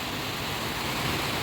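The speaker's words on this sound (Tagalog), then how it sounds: "Hindi na talaga natapos ang ulan dito sa Dait. So, ayan guys, malakas na naman yung ulan," Heavy rain pours steadily in Dait, a dense, even roar with no breaks and no voices over it.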